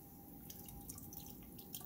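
Water dripping from the outflow of a distillation apparatus in a chemistry lab, heard as faint, irregular drips over a steady wash of low background noise.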